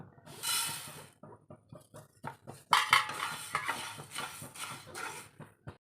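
Coriander seeds are dry-roasted in a pan for sambar powder, a spoon scraping and tossing them in a series of short rustling strokes, close and soft, growing busier midway before falling silent.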